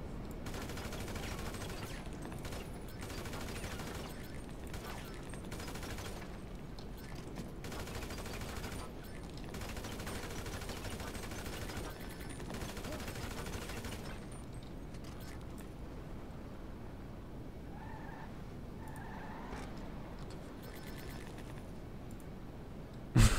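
Repeated gunfire in GTA 5 Online, with bursts of shots in clusters through the first two-thirds before tapering off, mixed with game mechanisms and occasional talk.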